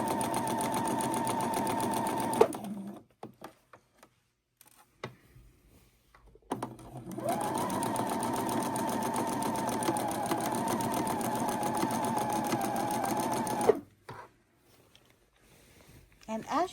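A sewing machine quilting a fabric project, running in long steady stitching bursts with a close mechanical hum and fast needle chatter, stopping for a pause and starting again before halting.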